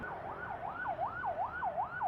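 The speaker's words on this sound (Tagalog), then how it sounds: "Ayun na, may ambulansya na." An ambulance siren wails steadily at a motorcycle crash scene, its rising and falling tone repeating in even cycles roughly every half second, fairly loud and continuous with no talk over it.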